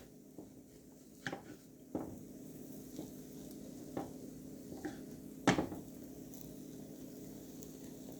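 A French omelette in a hot pan, quiet and mostly still, broken by a string of sharp metallic taps and scrapes as it is worked and folded, with one louder clank near the end and no talking.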